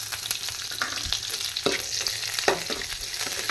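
Steady crackling sizzle of leaves frying in hot oil, close up, with a few louder pops and a scrape of stirring, no voices.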